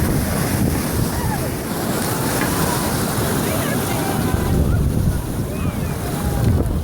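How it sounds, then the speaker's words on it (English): A small river rapid during a New Zealand rafting run, a loud, continuous rushing roar of churning water close by, steady throughout with wind buffeting mixed in. "we're coming to a wee rapid here"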